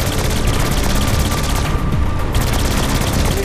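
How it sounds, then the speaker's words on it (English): Alien SMG firing with heavy recoil in Saints Row 4, a dense, continuous loud stream of rapid automatic shots with booming low end, steady throughout. "Alien SMG. Holy crap, this thing's got... Dang, this thing got some major recoil."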